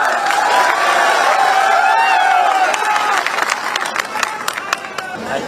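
A political election rally crowd applauds and cheers loudly and continuously, with whoops and scattered claps thinning toward the end.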